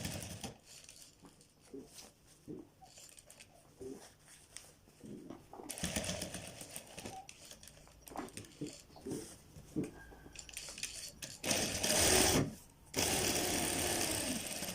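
A sewing machine sews the final stitching over a placket on a child's kurta, coming in short uneven bursts between quieter handling sounds at moderate volume.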